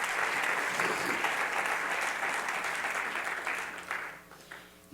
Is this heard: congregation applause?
yes